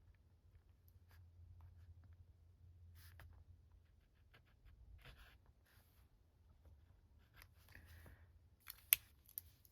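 Pen moving across the page of a journal at a desk, soft faint scratching strokes in short bursts with quiet pauses and a small tap near the end.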